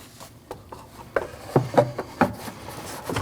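A plastic air intake snorkel being pushed into place on a 2014-2023 Jeep Cherokee 2.4L, producing a series of hollow knocks and rubbing scrapes, several distinct bumps close up with quiet handling noise between them.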